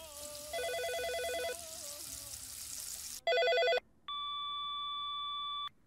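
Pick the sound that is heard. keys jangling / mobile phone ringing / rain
mobile phone ringing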